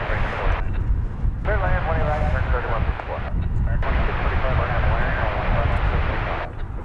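A jet airliner on takeoff roll from runway 18 left at DFW airport, a loud sustained engine roar heard at a distance, with radio chatter from air traffic control running over it.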